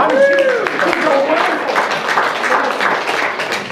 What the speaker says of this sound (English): Let's clap for Benty!